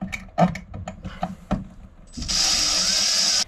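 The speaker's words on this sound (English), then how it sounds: "I've gone through a whole bunch of different drill bits, trying to find one that would actually cut a good curl" A drill works on a hole aboard a wooden boat, producing intermittent clicking and grinding sounds, then a steady high-pitched whine of cutting that lasts over a second before stopping.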